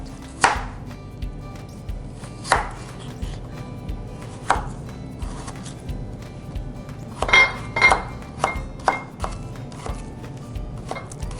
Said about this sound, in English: I'm gonna show you how to cut the potatoes in little squares